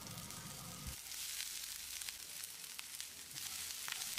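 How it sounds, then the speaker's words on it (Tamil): Grated coconut and curry leaves roast in a pan over moderate heat, giving a soft, continuous hiss and crackle with a few faint stirring ticks, fairly quiet and close. "அளவான தீயில 1 நிமிஷம் இதை நல்லா வறுத்துடலாம்."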